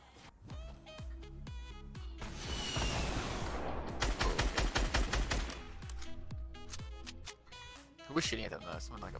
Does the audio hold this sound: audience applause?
no